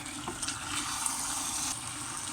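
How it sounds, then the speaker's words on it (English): Cooking oil bubbles and sizzles in a pot with chicken and spices, a steady close hiss with small popping crackles throughout. "When the oil has started to bubble like this"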